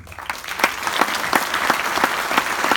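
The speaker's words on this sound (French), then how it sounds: "je vous invite vraiment à applaudir cette authenticité" Audience at a conference clapping hands in a dense, steady wave of applause with a few stronger beats standing out, loud and continuous without talk.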